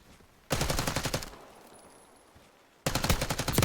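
Two loud bursts of rapid automatic gunfire from a gunfight in Call of Duty Black Ops 6, each sustained for about a second with a quieter gap between, close and without voices.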